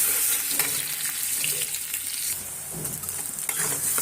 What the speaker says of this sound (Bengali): পেঁয়াজ আর রসুনটা আমার ভাজা ভাজা হয়ে গিয়েছে